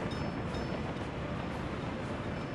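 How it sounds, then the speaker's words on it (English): Trains rolling along tracks in the Soviet-era Workers and Resources game, a dense, continuous rumbling rail roar with steady level and no gaps, filling the whole moment without talk. "Got these two trains in here delivering things again."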